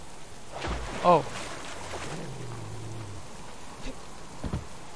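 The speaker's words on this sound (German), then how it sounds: "Noch ist es Regen und kein Schnee." Steady rain hisses across the whole stretch in the survival video game Subsistence, a soft, even wash in the background, with a brief exclamation and faint game noises over it.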